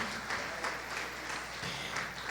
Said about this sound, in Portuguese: Você pode aplaudir mais forte?